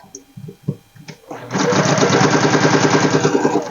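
A home sewing machine runs steadily, stitching fabric with a fast, even mechanical whir after a few quiet clicks and soft handling sounds.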